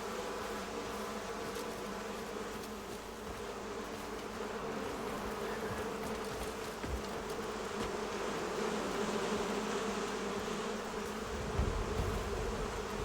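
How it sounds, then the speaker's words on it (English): Bees buzz in the video game Crimson Desert, a steady swarm-like drone held at an even, moderate level for the whole span, with a low thump near the end and no speech. "Oh, the bees."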